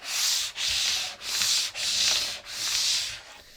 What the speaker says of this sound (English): you basically rub this scraper at a 45-degree angle, along your mat, and it smooths out the mat for you.